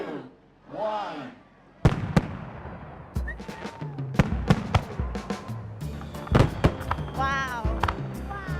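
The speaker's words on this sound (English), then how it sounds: "I like the fireworks because it's pretty cool, and especially that part, it was really loud." Fireworks bursting at an outdoor winter festival, a rapid series of sharp, loud cracks and booms that build into dense overlapping explosions, with crowd voices and cheering mixed in.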